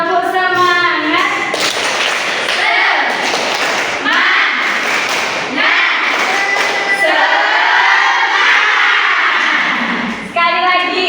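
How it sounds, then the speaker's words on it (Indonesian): Fifth-grade pupils in an Islamic primary school classroom perform a rhythmic spirit clap, sharp patterned claps and thuds mixed with their loud chanted voices, near and lively throughout. "Tepuk semangat."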